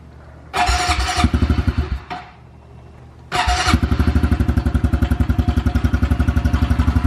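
A 2021 Honda CRF110 dirt bike cold-starts outdoors in freezing weather. It cranks and sputters, catches briefly and dies, then fires again and settles into a loud, close, rapid, lumpy idle.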